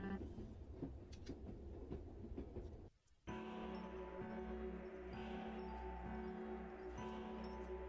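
Rolling metro train ride with a constant low rumble and rail noise, briefly dropping out before resuming as a steady hum with a tonal whine.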